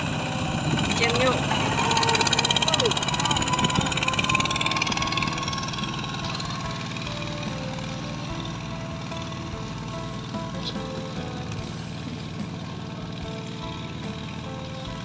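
A tractor engine runs with a steady low drone, louder at first and then settling into an even idle, while a person talks over it.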